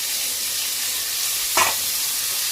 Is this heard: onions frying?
yes